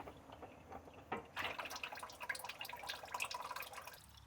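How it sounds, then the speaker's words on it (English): Engine oil draining from a 2017 Buick Regal Turbo during an oil change, a faint steady trickle and patter of liquid that grows fuller after the first second. "We got both of them draining out right now."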